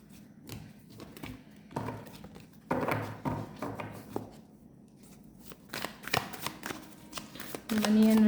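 Tarot cards are shuffled in repeated quick riffling bursts, close and crisp, with pauses between them while someone talks.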